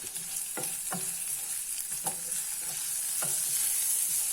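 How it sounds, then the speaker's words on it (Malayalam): Mustard seeds and chopped ingredients sauté in a hot pan with a continuous sizzle, while a spoon scrapes and stirs at irregular intervals, close and alone. "എല്ലാം കൂടെ നല്ലോണം കിടന്നൊന്ന് വഴന്ന് മൂക്കണം."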